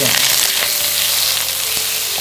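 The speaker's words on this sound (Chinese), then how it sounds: "锅里倒油，下蒜片，要炒出香味" A loud, steady sizzle of garlic slices in oil in a hot wok, close up, with faint stirring scrapes and no talking.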